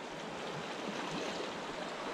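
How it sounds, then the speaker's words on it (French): A river's strong current flows with a steady, broad rushing hiss of water, continuous and even, with no voices. "De très beaux grands courants là."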